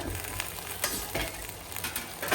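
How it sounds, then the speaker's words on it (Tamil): Tomatoes being sautéed in a pan with softened onions and bitter gourd give a steady low sizzle, with soft scraping and stirring strokes recurring every half second or so, close up and without talk. "தக்காளி சேர்த்துட்டு தக்காளியுமே வதக்கிடலாம்"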